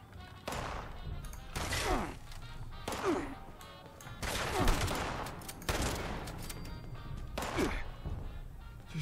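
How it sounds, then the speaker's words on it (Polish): Repeated gunfire and heavy impacts in the Fallout 76 video game, with bursts of shots and thuds arriving in irregular clusters over about nine seconds against a busy game soundscape. "Gdzieś tu jeszcze coś strzela do mnie."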